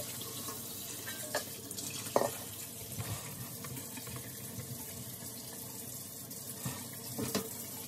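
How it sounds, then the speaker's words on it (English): Tap water runs steadily into a sink while sea moss is rinsed by hand, a constant hiss and splash with a few louder splashes and clatters, fairly quiet and close, with no talking. "you want to make sure you rinse it very well. Rinse it a few times."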